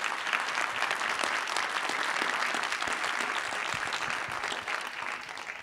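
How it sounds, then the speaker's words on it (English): Audience applause fills the room at a public talk, dense steady clapping of many hands throughout, fairly loud and sustained with no voices over it. "So if you could give a round of applause to the people who made this happen."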